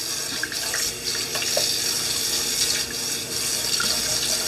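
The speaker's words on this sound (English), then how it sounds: "I'm going to rinse them through the colander for a minute" Tap water pours steadily into a kitchen sink as foraged dandelions are rinsed in a colander, a continuous close splashing hiss with small clatters mixed in.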